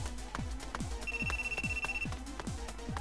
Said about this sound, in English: A sudden ringtone.